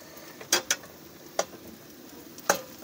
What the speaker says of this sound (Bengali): এই আমাদের আলু চোখাটা বানছে, দেখলাম একদম আলু দিয়ে এটা চোখা হচ্ছে আমাদের।